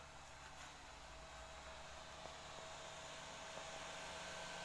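An Ender 3 3D printer runs steadily in a workshop, giving a quiet, constant mechanical hum and whir with faint ticks, no voices.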